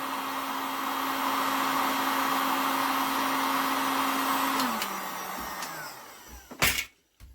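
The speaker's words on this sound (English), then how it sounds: "I find a heat gun is a bit less aggressive" A heat gun blows hot air in a steady, loud broadband rush during reassembly of a Villiers Mk12 motorcycle engine part, then winds down with a falling tone near the end, followed by a couple of brief clunks.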